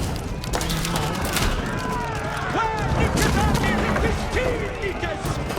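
Continuous siege bombardment in the medieval strategy game Age of Empires 4 during a Norman campaign assault on Lincoln, a dense steady roar of overlapping impacts and crashes with faint voices mixed under it.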